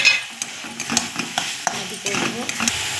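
Potatoes and prawns fry in oiled spice paste while being stirred, with a faint steady sizzle under repeated clinks and scrapes of a utensil against the pan, close by.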